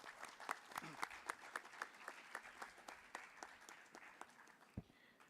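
An audience at a university fireside chat with a filmmaker breaks into applause, a fairly faint but steady run of individual claps spread through the room.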